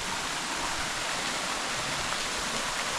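Waterfall near the Tolminka river pouring down a moss-covered rock wall into a clear pool, a steady, dense roar of falling water that stays unbroken from start to finish with no voices.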